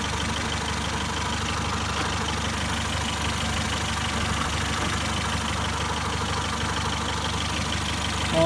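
A Honda car engine idles steadily and evenly at close range, a continuous mid-low hum with faint knocking texture and no talk over it.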